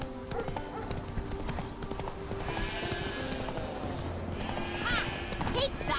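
In The Witcher 3 a horse gallops with rapid, steady hoofbeats, joined by a whinny and a voice talking over the game sounds.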